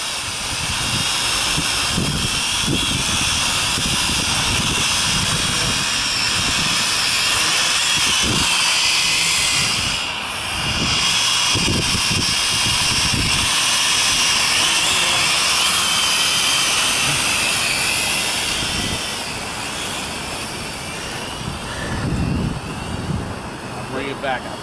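An R/C smart drone whines and buzzes in flight through strong gusting wind, with heavy wind rumble buffeting the microphone and people talking intermittently over it.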